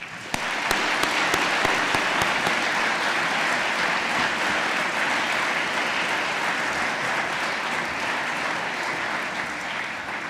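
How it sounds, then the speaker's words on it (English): An audience at a university leadership event in Swansea claps in sustained, dense applause for about ten seconds to welcome a speaker on stage. "I would like for everyone to have a massive round of applause to welcome on stage Professor Paul Boyle"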